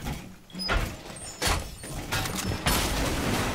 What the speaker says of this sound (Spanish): Explosión ha pegado.